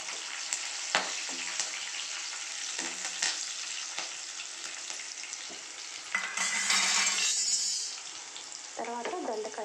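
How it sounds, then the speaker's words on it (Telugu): Onions and curry leaves fry in a pan with a steady, close sizzle, broken by repeated stirring scrapes and a louder burst of hissing midway. "ఉల్లిపాయలు బాగా వేగిపోయండి."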